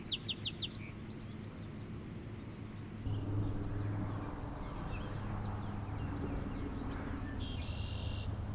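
Birds chirp and sing in a cool, shady friendship-of-nations park, with a few clear, high calls near the start and scattered softer calls later over a steady low background hum.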